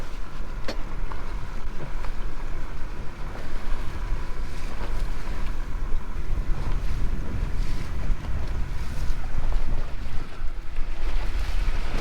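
A boat out on the water at an ocean inlet, a steady loud engine rumble mixed with wind buffeting the microphone and splashing water, continuous throughout with no voices.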